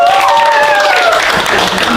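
Students in a school classroom clap their hands under loud, excited shouting and chatter from the group, close and busy throughout.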